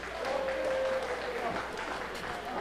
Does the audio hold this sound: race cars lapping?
no